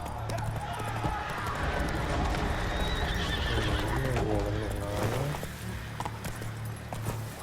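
A horse gallops with steady, rapid hoofbeats and gives a loud whinny partway through, set in the video game The Witcher 3: Wild Hunt, Blood and Wine, with a voice speaking and background sound throughout.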